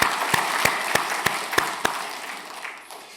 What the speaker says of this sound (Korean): 큰 박수로 환영하시겠습니다.